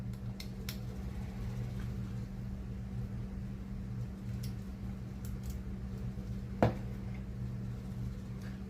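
Steady low air conditioner hum drones in the background throughout a quiet room, with a few faint ticks and one short clunk partway through, and no voices.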